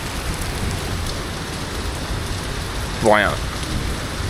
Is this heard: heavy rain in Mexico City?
yes